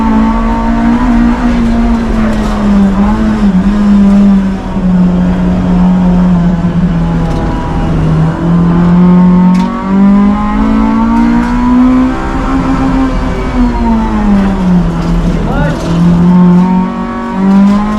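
1988 Honda CRX Si with a B16A engine lapping the Arroyo Seco race track, its engine droning loud and steady throughout as the pitch rises and falls through shifts and corners, heard from inside the car.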